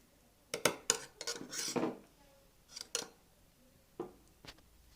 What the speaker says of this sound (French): je vais venir mélanger le tout avec une fourchette pour ne pas casser les morceaux de poisson.